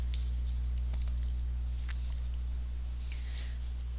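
Pen writing on paper, faint scratchy strokes in short bursts over a loud steady low hum.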